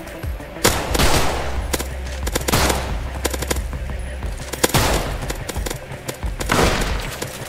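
Rapid bursts of video game gunfire, loud and dense, with overlapping automatic shots and returning fire in quick succession.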